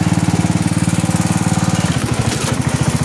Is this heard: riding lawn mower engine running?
yes